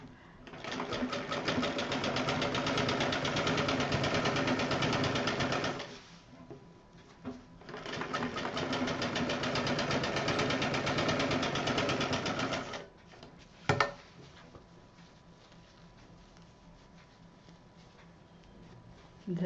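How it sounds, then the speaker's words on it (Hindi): A sewing machine stitches the bottom of a purse in two long, steady whirring runs separated by a short pause, followed by quieter handling and a sharp click near the end. "इसको भी अच्छे से सिल दें।"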